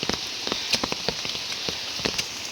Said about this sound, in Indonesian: Ini udah sore juga masih hujan terus-terusan ya hari ini tuh.